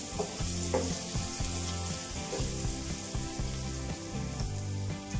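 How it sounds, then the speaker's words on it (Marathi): Chopped okra fries with garlic and a pinch of asafoetida in a pan over low heat, giving a soft continuous sizzle with stirring and scraping and no voices. "आपल्याला थोडीशी भेंडी फ्राय करून घ्यायची आहे।"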